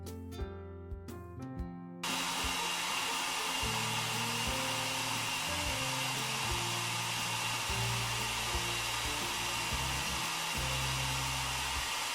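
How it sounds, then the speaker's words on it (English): A steady, loud whooshing blow of a hair dryer starts after two seconds and runs on without a break over a low, shifting musical backdrop. "I'll message him after I finish drying your hair."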